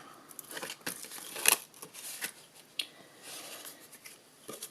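Backing being peeled off tear-and-tape strip on a paper die cut, a close, soft crinkling and tearing rustle with a few sharper crackles, no voices.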